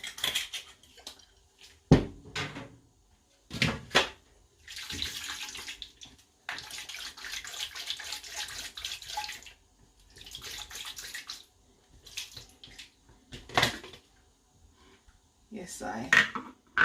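A blender jug rinsed out with a splash of wine and rum, with sloshing liquid and clattering glass in short bursts separated by quiet gaps.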